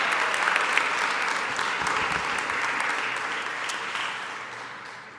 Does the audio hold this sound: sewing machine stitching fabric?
no